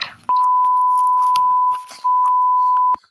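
A censor bleep: a steady electronic tone that holds for nearly two seconds, cuts out briefly, then sounds again for about a second, loud and clean over faint background talk.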